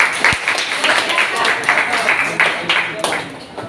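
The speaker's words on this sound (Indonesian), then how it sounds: "Oke, beri tepuk tangan untuk Novel ya." Classmates clap for a student in a classroom, a loose, moderately close patter of hands lasting a few seconds with some voices mixed in.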